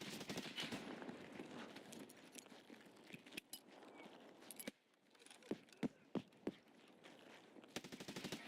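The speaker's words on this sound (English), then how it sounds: "Someone on my left shooting me." Escape From Tarkov gunshots crack in quick bursts and single sharp reports at mid distance. The shots are scattered across the stretch, with brief pauses between volleys.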